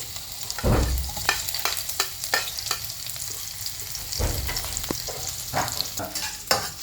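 Garlic and onion sauté in a pan with a steady close sizzle and frequent scraping stirs, the frying hiss swelling at moments, with no voices.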